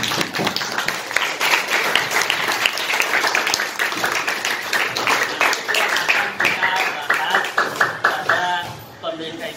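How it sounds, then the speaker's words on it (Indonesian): Classroom of students clapping in a lesson on ion bonding, a dense, fairly loud burst of many hands that runs steadily for several seconds, then thins and fades near the end. "Oke, tepuk tangan buat kita."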